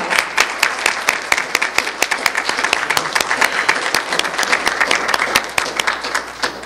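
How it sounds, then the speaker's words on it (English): An audience gives a round of applause, dense and loud clapping that runs steadily throughout at close range. "Give yourself a round of applause."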